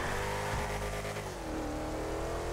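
Comet sports car in GTA 5 revving hard, a loud close engine roar that holds, dips as the gear or throttle changes, then climbs again, with no voices over it.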